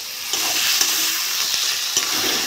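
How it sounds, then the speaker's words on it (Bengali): Spices and tomato stir-frying in oil for a lote fish chochchori, a steady close sizzle with a few sharp scrapes of a spatula across the pan and no talking. "মশলাটা ভালো করে কষে নেব।"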